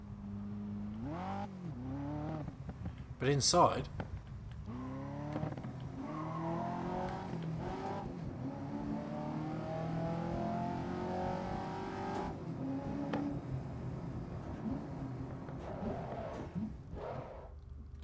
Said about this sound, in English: So it sounds like a 6-cylinder.